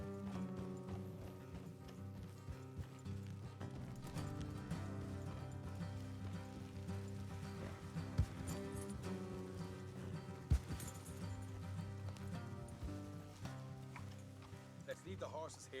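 Horses gallop along a road in the Red Dead Redemption 2 video game, a steady, fast clip-clop of hooves running throughout beneath character dialogue and background music.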